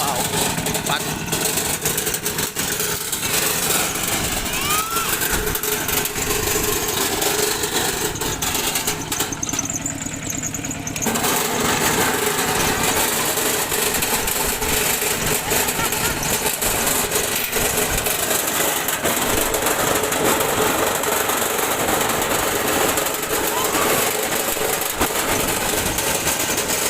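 A walking tractor engine runs continuously, a loud, rough mechanical drone that barely varies over nearly half a minute, with a voice occasionally heard beneath it.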